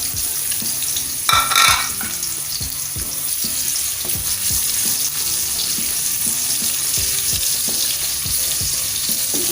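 Garlic and ginger sizzle steadily in a hot pan for chicken adobo, a dense hiss with a brief louder burst near the start and light scraping stirs throughout, no talking.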